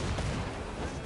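Ship cannons firing chain shot during a naval battle in Assassin's Creed Black Flag on PS5, a dense, continuous roar of booming fire filling the whole moment at close range.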